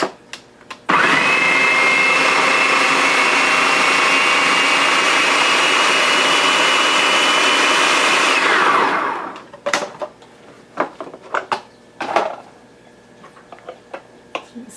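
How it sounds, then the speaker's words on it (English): A food processor chops tomatoes, onion and herbs in a steady, loud whirring run of about eight seconds that cuts off abruptly, followed by light clicks and clatter from the machine. "I just put some tomatoes in with an onion and some of my herbs, so I get them kind of mixed together when I process it this time"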